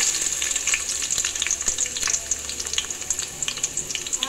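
Onions fry in hot oil in a village kitchen, giving a loud, dense, continuous crackle with frequent bright pops and faint stirring throughout.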